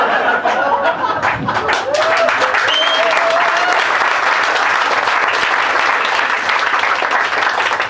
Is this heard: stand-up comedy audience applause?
yes